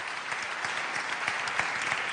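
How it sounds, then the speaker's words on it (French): Audience applauding at an award ceremony in the Senate chamber, close continuous clapping with an even texture and small individual claps standing out, filling the whole moment. "On peut l'applaudir à nouveau."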